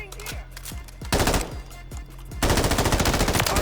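Gunfire in the video game Warzone: loud, close bursts of rapid automatic fire with a few single shots, ending in a dense sustained volley. No one speaks.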